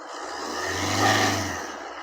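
A Tata Vista car engine is revved once, swelling from a close idle hum to a louder peak before settling back down.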